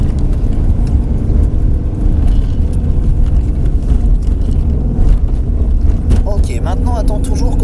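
A car accelerating hard at full throttle on a track during a driving course, its engine roaring loud and continuous throughout, with brief chirps and rattles near the end.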